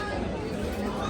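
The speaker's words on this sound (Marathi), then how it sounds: "चांगलीच गर्दी आहे." Dense crowd chatter at Gadisar Lake in Jaisalmer, a steady babble of many overlapping voices filling the whole moment without pause.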